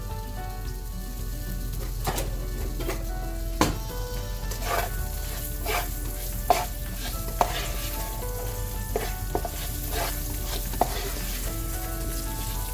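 Baby potatoes fry in a pan with paprika and cumin, a constant soft sizzle punctuated by scattered pops, clicks and stirring taps throughout.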